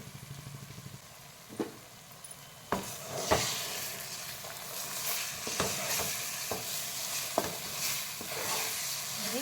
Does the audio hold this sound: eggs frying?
yes